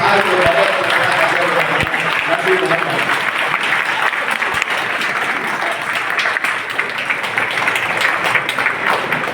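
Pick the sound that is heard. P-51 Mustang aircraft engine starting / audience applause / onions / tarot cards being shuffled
audience applause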